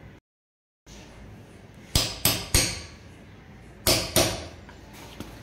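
A center punch is struck by a hammer into an 18mm panel: five sharp metallic taps in two bursts, three close together then two more, loud and near with no talking.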